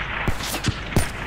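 Sniper rifle fire in the video game Call of Duty Black Ops 3: three deep, booming shots spaced about a third of a second apart, loud over a steady hum of game background noise.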